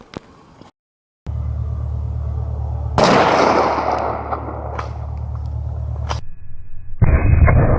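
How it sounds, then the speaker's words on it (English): A 12 gauge shotgun fires a single Rio Royal 00 buckshot round outdoors at a target 75 feet away: one loud, sharp blast with a long decaying echo, followed by a metallic action click and steady background hum. "let's go ahead and try shot number 2, Rio Royal Buck from exactly 75 feet again."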